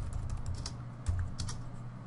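Soft, rapid tapping on a computer keyboard runs at an uneven pace beneath a low background hum, fairly quiet and close.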